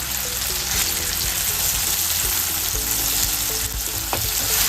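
Capsicum, onion and green chillies fry steadily in a wok, a loud continuous sizzle with occasional stirring scrapes and crackles throughout, no voices.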